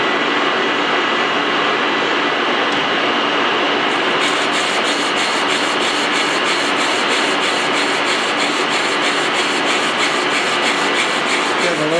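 A metal planer takes a 1mm cut across a rounded workpiece, giving a steady, loud scraping rasp that thickens after the first few seconds and runs on continuously with no talk.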